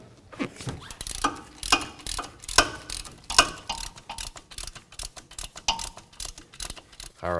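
Ratchet wrench with a 17 mm socket breaking loose hub bolts on a 2005–2016 Toyota RAV4, a rapid series of sharp metallic clicks in uneven bursts, close and fairly loud.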